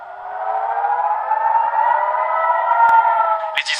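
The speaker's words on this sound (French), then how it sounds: "Pendant de longues minutes, les sirènes retentissent comme ici à Jérusalem." Air raid sirens wail across Jerusalem, a loud, sustained tone that rises slowly and holds steady, with a brief sharp click near the end.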